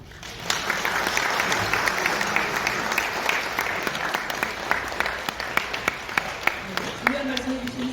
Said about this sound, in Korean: 중요한 말씀해 주신 서경아 위원장님께 다시 한번 큰 박수 부탁드립니다.